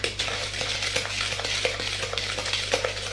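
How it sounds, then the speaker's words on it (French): Dry bath bomb ingredients are stirred in a bowl, giving a busy run of close scraping and clinking strokes in an uneven rhythm with no voices. "on mélange."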